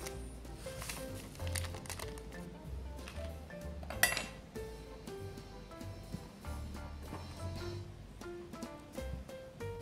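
Chicken bakso aci dough is stirred in a bowl, giving a busy run of soft scraping, clinks and light utensil taps against the dish, close and moderately quiet, with one sharper clink partway through.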